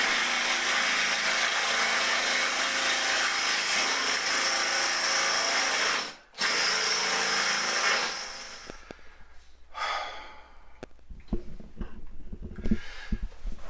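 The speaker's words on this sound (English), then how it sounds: "Now it's time to start drilling." A drill whines loudly and steadily for several seconds while drilling holes in wall tile, pauses briefly, then resumes before tapering into scattered scraping and knocks.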